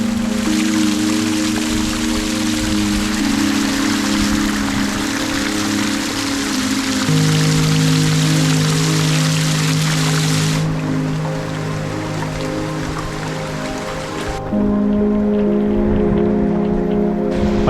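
A loud, dense roar of heavy storm rain on an off-grid homestead pours down steadily, heavy and unbroken, with a constant hiss of water striking surfaces all around.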